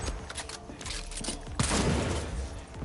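Johnny Silverhand's pistol fires in Cyberpunk 2077, a run of sharp shots capped by a heavier, louder burst with a rumbling tail, all over busy game ambience.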